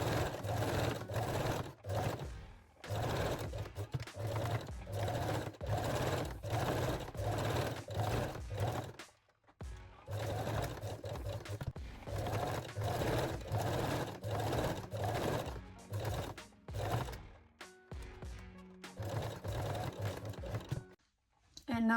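Sewing machine stitching a garter belt in repeated loud bursts of rapid mechanical chatter, broken by short pauses, close up, with occasional talking between runs.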